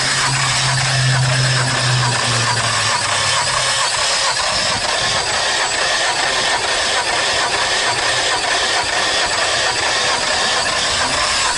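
Car engine running with a blown head gasket, a loud, continuous rough idle with dense broadband clatter and hiss, a low hum fading out early, steady throughout with no talk.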